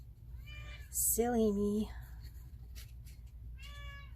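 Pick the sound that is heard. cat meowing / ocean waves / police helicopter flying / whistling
cat meowing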